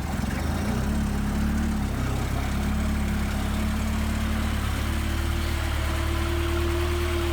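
A car engine idles at a steady low rumble with a constant hum, holding an even pitch close by without any revving.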